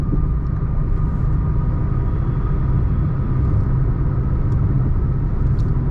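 Steady low rumble of engine and road noise inside a Toyota Taisor with a manual gearbox as it accelerates toward 100 km/h on the highway, a continuous even drone with no voices.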